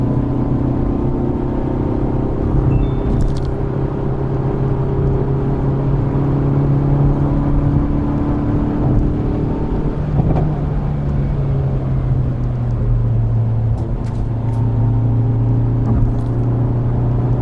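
A Hyundai Veloster N at high speed, heard from inside as a steady loud engine drone that slowly falls in pitch, with road and wind roar and a few light clicks.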